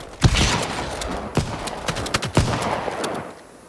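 Shotgun blasts in the mobile shooter Battle Prime, about three sharp, loud shots a second or so apart, each with a short tail of lighter gunfire and effects.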